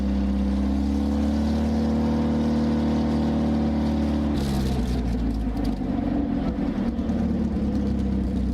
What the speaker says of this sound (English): the engine ran smoothly with no hesitation